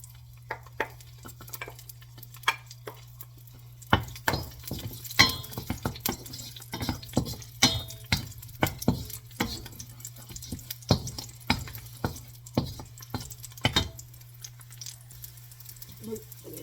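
Garlic sautéing in a pan for sinigang: a low, steady sizzle with scattered clacks and scrapes of a utensil stirring against the pan, close by, a low hum running underneath.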